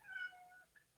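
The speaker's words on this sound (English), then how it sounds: "I hear the kitty outside, by the way." A cat meows outdoors, a single faint, drawn-out cry from a distance with a short softer chirp after it.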